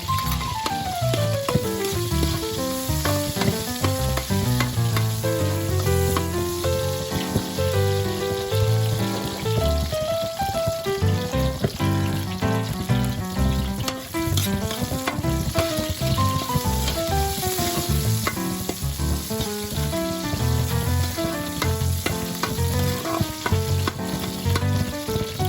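Onions fry with beef brisket in a hot pan, a steady loud sizzle and crackle running throughout with occasional stirring, beneath background music.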